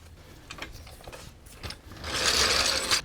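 Brake caliper bolts on a 2020 Infiniti QX50 are worked with a ratchet wrench, giving close, quick clicking bursts that swell into a louder mechanical rattle near the end, with no voices.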